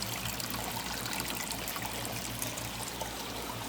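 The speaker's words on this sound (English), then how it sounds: "Creek looks good." Creek water trickles and burbles in a continuous, even wash of flowing sound, moderately faint and steady, with no voices present.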